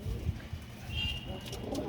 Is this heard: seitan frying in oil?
no